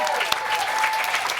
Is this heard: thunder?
no